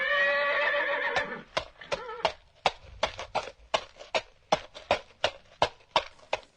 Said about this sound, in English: that sounds like a horse walking